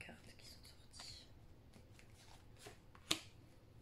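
Tarot cards are shuffled close by in quiet soft riffles and taps, with one sharp snap near the end as cards slip out, faint whispery sounds underneath.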